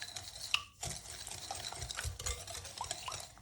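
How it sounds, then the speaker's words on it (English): Whole eggs and vanilla are whisked in a clean bowl, a quick steady stirring and clinking of the whisk against the bowl, close and clear with no talking. "Whisk them together"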